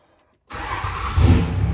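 A 3rd Gen Cummins diesel truck engine cranks and fires after a moment of silence, then settles into a loud, close, rising idle.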